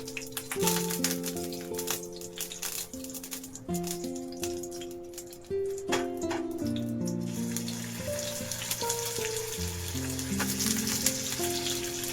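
Paneer pieces fry in a spoonful of ghee in a pan, a steady close sizzle running for the whole stretch beneath loud melodic background music.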